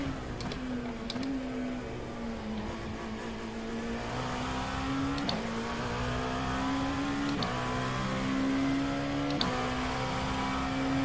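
Dallara P217 LMP2 race car engine in iRacing, a steady high-pitched drone rising and dipping as it revs hard against the limiter, with brief shifts and bumps every couple of seconds, loud and without a break.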